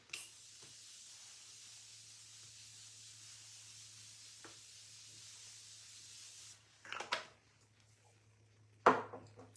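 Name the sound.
Morphe Continuous Mist setting spray being sprayed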